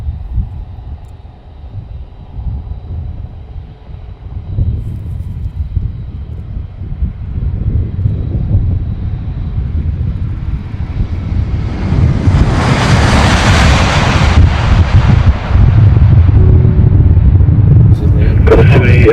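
A Qantas airliner lands on runway 34 left after a London to Sydney flight, its engine roar building into a loud, broad rumble with a rising rush of reverse thrust and wind noise. A voice talks faintly beneath it.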